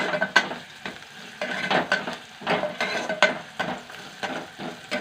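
Onions fry in a pan over a flame, cooked on low heat to avoid burning, a soft continuous sizzle broken by repeated stirring scrapes and clinks of a spoon against the pan.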